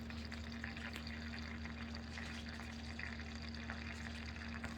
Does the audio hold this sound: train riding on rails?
no